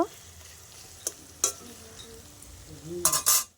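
Onions sizzle in a pan with a soft, even hiss, punctuated by a few sharp utensil clinks and a burst of louder stirring at the end; faint voices mutter in the background.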